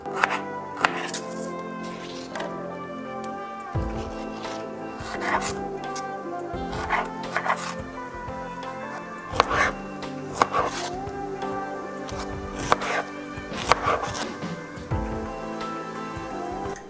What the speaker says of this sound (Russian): Оставшуюся клубнику порежу произвольными кубиками.